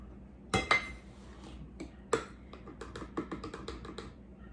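Fudge ingredients go into a metal pan, with sharp clinks and taps of pan and utensils. Two louder knocks come first, then a quick scatter of lighter clinks, close and alone.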